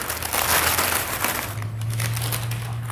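A wax paper bag crinkles and crunches as it is handled up close, loud bursts of rustling for about a second and a half, then a fainter crinkle over a low hum.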